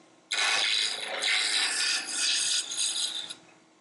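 A turning tool cutting wood on a lathe while making tiny Christmas trees, heard as a continuous close, loud scraping rasp that starts abruptly and runs steadily for about three seconds before stopping.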